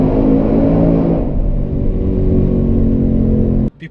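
A Ford Mustang GT V8 exhaust revs loud and close, a dense throaty roar that holds steady for a few seconds, eases slightly, then cuts off abruptly near the end.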